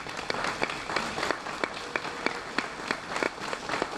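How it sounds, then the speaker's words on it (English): An audience at a fire department open house applauds local elected officials, with scattered, moderately loud claps from a modest crowd continuing steadily for several seconds. "I'd really like you to stand, and we'll just applaud for you"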